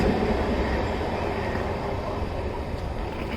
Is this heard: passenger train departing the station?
yes